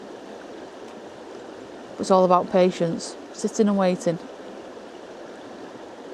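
A stream flows steadily in the Peak District, its broadband rush heard throughout, with someone speaking briefly in the middle over the running water.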